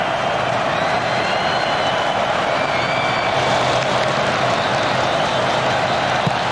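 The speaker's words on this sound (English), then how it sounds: "And listen to the crowd here." A football stadium crowd at a 2007/2008 Newcastle Jets match roars in a constant, loud wash of cheering and applause that fills the whole stretch without a break.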